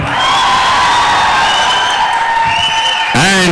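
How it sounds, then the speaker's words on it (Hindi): Audience at the Prithviraj trailer launch, applauding and cheering loudly and steadily, with a voice rising over the crowd near the end. "जोरदार तालियां"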